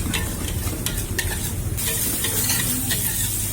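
Beef oseng is stir-fried in a hot pan, a loud continuous sizzle with steady scraping and stirring clicks of a utensil against the metal, close up and with no talk.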